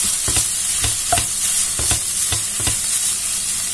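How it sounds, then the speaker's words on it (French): Mushrooms sizzle loudly in a pan for a gratin while a utensil stirs them, producing a constant frying hiss broken by regular scraping strokes, up close and without speech. "je vais rajouter aussi directement mes champignons. Comme ça, il y a tout qui va rendre son jus."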